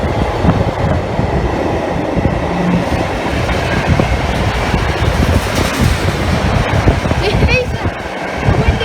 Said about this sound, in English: These are the windiest trains you'll find round here.